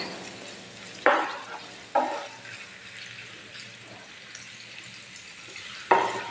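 Capsicum and other vegetables frying in a pan for capsicum pulao with turmeric and red chilli powder. Three sudden bursts of sizzle come as they are stirred, with a quieter steady frying hiss in between.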